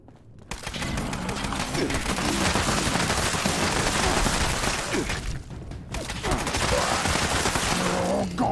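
Rapid sustained gunfire in the Fallout 76 video game, dense loud bursts of shots filling nearly the whole stretch with a brief gap midway, a voice talking underneath.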